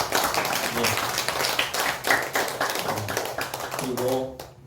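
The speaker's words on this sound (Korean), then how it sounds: "이렇게 방문하신 분들이 환영의 박수 하겠습니다" A church congregation claps in welcome at a Thanksgiving Sunday service, the brisk clapping running steadily throughout with voices mixed in and a sustained tone rising near the end.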